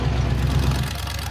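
A monster truck engine idles with a short, close, low rumble that stays steady and unbroken.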